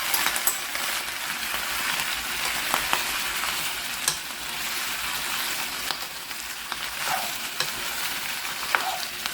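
Onions are stir-fried in a pan with soy sauce and oyster sauce, giving a constant close sizzle with scattered light scrapes and clicks of stirring.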